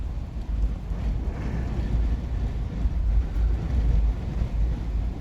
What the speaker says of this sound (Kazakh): Дала жел, жаңбыр жауып тұр бізде.